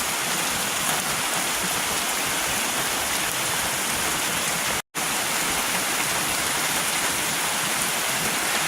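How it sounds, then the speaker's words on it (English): Steady, heavy rainfall roars in an unbroken wash of noise, interrupted only by a split-second cut of silence midway. "Now it rains like this."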